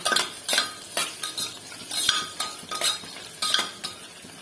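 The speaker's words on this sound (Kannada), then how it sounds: "ಇದೆಲ್ಲ ಚೆನ್ನಾಗಿ ಮಿಕ್ಸ್ ಮಾಡಬೇಕು. ಈರುಳ್ಳಿ ಎಲ್ಲನೂ ಫ್ರೈ ಆಗಬೇಕು." Spoon stirring onions and vegetables frying in a pan for pulao, with repeated metallic scrapes and clinks in a steady rhythm every half second over a faint sizzle, close and clear with no talk.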